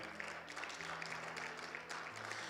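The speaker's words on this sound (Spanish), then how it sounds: "Denle un fuerte aplauso al Señor, por favor." A church congregation claps during a Bible class, faint and distant applause with a low steady hum underneath, even in level throughout the short stretch.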